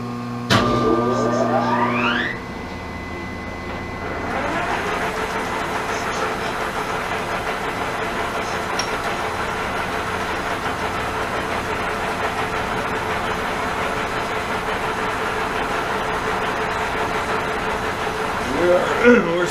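Pratt & Whitney Model B 12 x 30 lathe spinning up to 190 RPM with the gearbox in neutral: a brief rising whine at start, then a steady close mechanical hum, with some talk.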